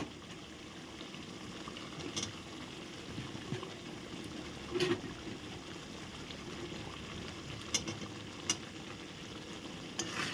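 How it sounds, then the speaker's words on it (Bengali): Paneer pieces are stirred through a bubbling, boiling gravy for paneer posto, a quiet steady sizzle and simmer broken by occasional clinks and scrapes of the spoon against the pot. "পনিরের টুকরোগুলো দিয়ে আবার নেড়ে চলে নিলাম"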